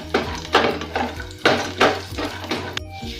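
Cashews, peanuts, almonds and raisins fry in a pan, stirred with a spoon in a regular rhythm of scraping strokes and metallic clinks over a faint sizzle, close and clear, no speech.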